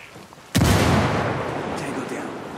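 Grenade blast in the Ghost Recon Wildlands video game, a single sudden loud boom after a short quiet lead-in, then a long rumbling decay.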